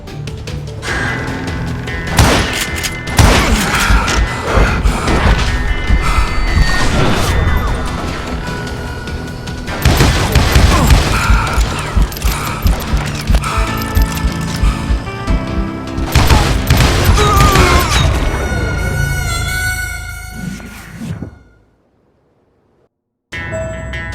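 Dynamite blasts and gunfire crash in the Western shooter Call of Juarez: Gunslinger, loud dense bursts of booms and debris with music in between, cutting briefly to silence near the end.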